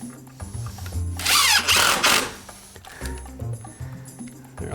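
A power drill drives flooring screws into wood in an unfinished basement, a single loud whirring burst lasting about a second, close up, with quieter mechanical clicks and room noise around it.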